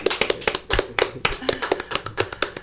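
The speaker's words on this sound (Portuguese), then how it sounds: "Palmas para o Ramon." Applause for Ramon closing an interview segment, sharp hand claps landing in an uneven rhythm, close and fairly loud, with some speech-like sound mixed in.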